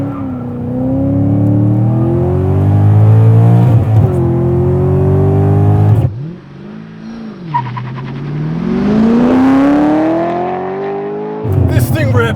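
A 2006 Chevrolet Corvette C6 Z06 with a hand-built 7-liter V8 and manual gearbox roars loudly up through the revs, drops off briefly, then climbs again in a long wailing pull, close and dominant.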